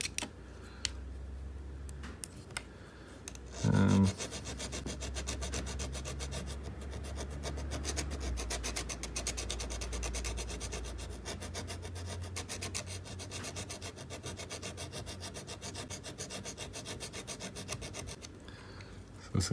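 A hand file rasps steadily against a silver piece in quick repeated strokes, close up and fairly faint, with a brief knock early on.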